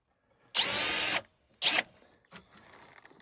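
Cordless power drill driving screws into blue pine wood at an off-grid woodworking site, two close, loud bursts of high motor whine, the first longer, followed by fainter clicks.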